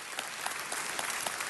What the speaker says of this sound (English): So let's give them a round of applause and thank them as well.